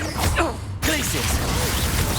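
Glacius ice spell cast in Hogwarts Legacy, a sharp swishing burst amid other spell effects and combat sounds, with voices shouting over the action.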